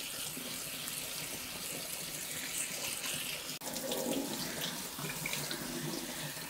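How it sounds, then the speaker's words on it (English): A cold kitchen tap runs in a steady, close stream while food is rinsed of excess salt for Persian shrimp rice. The flow breaks off for a moment midway, then resumes just as loud. "And I'm gonna wash that with the cold water to get the excess"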